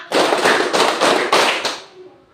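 A group claps hands together in unison, five sharp, loud, evenly spaced claps in quick succession, followed by a brief fading ring.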